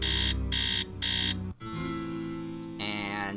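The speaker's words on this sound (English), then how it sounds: "I'm gonna set the alarm to 3." An alarm clock rings in a Nancy Drew video game, several loud bursts of harsh buzzing separated by short gaps, followed by a game tone and a closing electronic warble.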